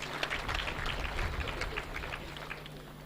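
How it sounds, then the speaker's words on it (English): Audience at the Afro Indian Investment Summit 2022 clapping for the President, a steady dense patter of many hands filling the room at moderate level, with no talk over it. "Let us clap for the President."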